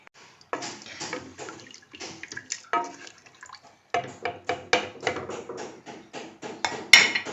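Water is poured into a pot of Pakistani meat pulao, producing a series of splashing, clattering bursts that come in uneven clusters, fairly close and moderately quiet, with no one speaking.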